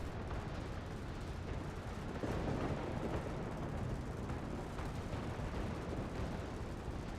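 Anti-aircraft guns in a World of Warships naval battle keep up continuous dense rumbling fire and explosions against an attacking fighter, a steady loud barrage with no pauses.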